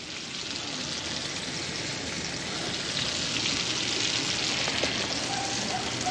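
Fish frying in a cast iron skillet over an open fire outdoors at dusk, a steady close sizzle and crackle holding even throughout with no talk.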